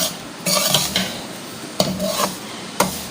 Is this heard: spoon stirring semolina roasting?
yes